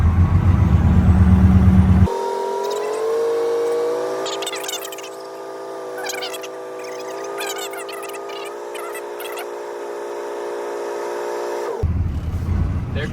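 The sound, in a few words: truck engine idling, building air pressure until governor cuts out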